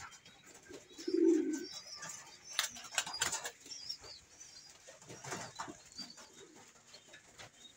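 A low pigeon coo rises briefly above a rustling, fluttering background, with scattered sharp clicks and soft bird noises nearby.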